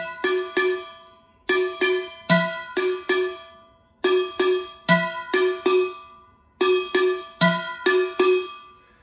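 Pots and pans struck as drums in the Kuku dunun rhythm: bright metallic clanks in repeating phrases of quick hits with short pauses, loud and close, with no voices.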